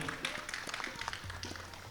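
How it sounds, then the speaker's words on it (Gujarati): An audience at a Gujarati poetry gathering (kavi sammelan) in Nikol, Ahmedabad claps steadily for about two seconds, a dense, moderately distant applause with a voice faintly heard beneath it. "વાહ ભાઈ વાહ વાહ જોરદાર તાળીઓ"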